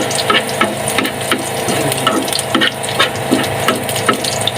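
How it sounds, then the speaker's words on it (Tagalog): Chopped garlic sizzles steadily in hot oil in a pan, browning toward golden, with a spoon or spatula stirring and scraping in a regular rhythm close by. "lagyan na natin yung bawang natin. Yan, medyo pa golden brown lang natin siya"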